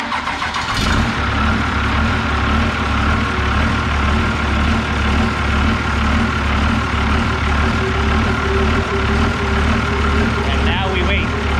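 A Cummins diesel engine swapped into a Tri Five Chevy cranks and catches, then settles into a loud, steady, even idle that runs on unbroken.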